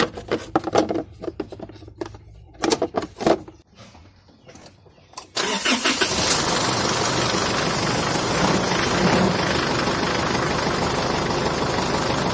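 Isuzu D-Max pickup engine being started after a starter relay fault, a few clattering bursts and rustling at first, then the engine catches around the midpoint and settles into a loud, steady idle close by.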